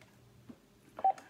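Telephone keypad dialing tones on a live call-in show, a short burst of touch-tone beeps near the end after a quieter stretch.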